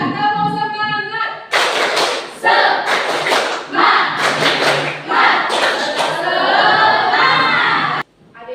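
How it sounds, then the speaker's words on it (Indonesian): A classroom group performs a rhythmic 'tepuk semangat' clapping ice breaker, with loud sharp claps in a patterned beat and chanting voices mixed in. "Ice breakingnya tepuk semangat biar tambah semangat."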